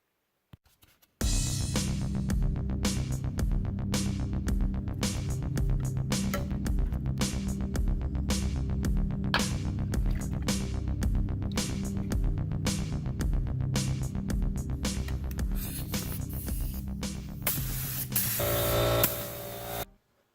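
A spray gun applies two-part epoxy to the undercarriage of a 1969 Camaro, producing a loud, continuous close hiss with a fast regular pulsing that runs nearly twenty seconds before cutting off.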